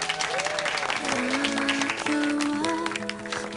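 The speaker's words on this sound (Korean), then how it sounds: "박수! 박수!" Firefighters and police officers at a celebratory party dinner clap in a steady round of applause, with voices and sung or shouted tones over the clapping.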